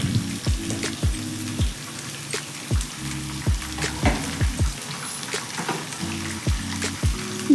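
Thinly sliced onions, about a quarter kilo, frying on high flame for capsicum palya, with a steady loud sizzle broken by regular scraping strokes of a spatula.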